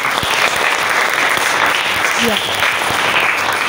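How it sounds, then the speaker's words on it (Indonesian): A classroom group claps in sustained, even applause lasting a few seconds, with a brief spoken word heard over it. "beri tepuk tangan"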